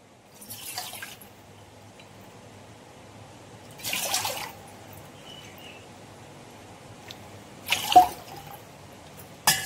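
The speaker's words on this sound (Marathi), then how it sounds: "या वाटीच्या मापाने मी 3 वाट्या हे पाणी घेते" Water pours in three short splashing bursts separated by quiet pauses, close by, with a faint background hum.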